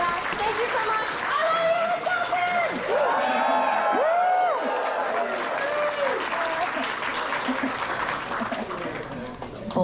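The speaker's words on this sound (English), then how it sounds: "Big round of applause for you." A crowd claps and cheers throughout at the closing ceremony of a cider festival. The applause is steady and full, with voices and whoops rising over it and shouting peaking midway.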